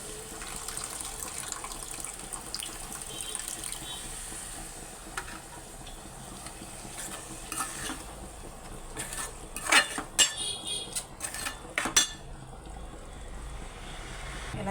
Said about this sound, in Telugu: డైరెక్ట్గా నీళ్ళు వేయకోకుండా చింతపండు పులుసు వేసేసుకోవాలి